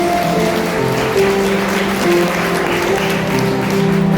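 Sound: wedding guests applauding during the ring exchange

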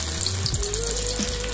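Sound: potatoes frying in hot oil

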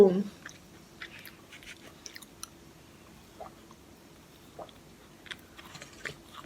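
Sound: chewing salted caramel snack

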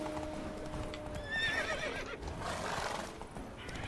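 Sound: horse hooves and neighing in video game

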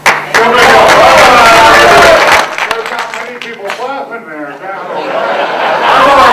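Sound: audience clapping at award speech

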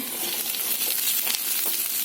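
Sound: potatoes frying in a pan

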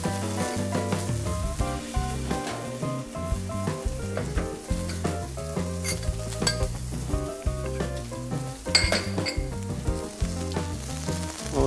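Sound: salmon searing skin-side down in a hot pan

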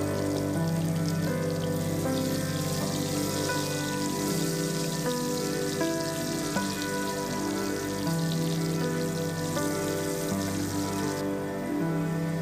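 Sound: potatoes frying in oil

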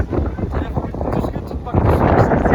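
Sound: wind

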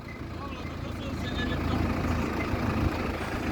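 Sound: farm machine engine droning

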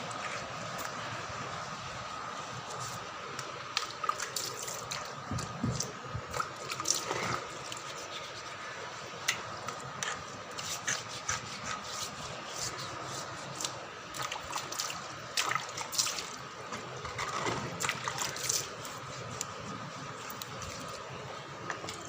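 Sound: washing things with water

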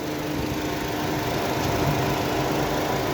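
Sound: Renault Laguna 2007 car engine idling

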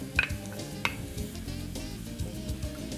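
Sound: mushrooms added to frying bacon and onion in pan

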